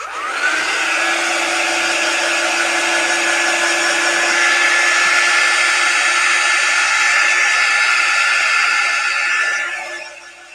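A hair dryer or heat tool blows steadily on a transfer applied to a candle container, a loud continuous whooshing hum with a faint tone underneath that runs for about ten seconds before cutting off.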